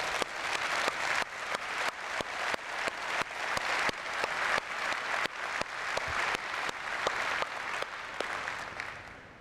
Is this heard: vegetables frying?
no